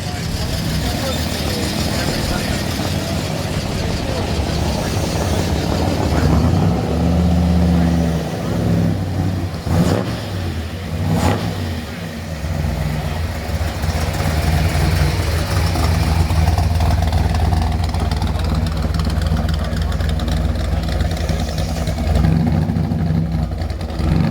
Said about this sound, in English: Caddy rolling in